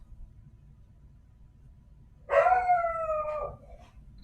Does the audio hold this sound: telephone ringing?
no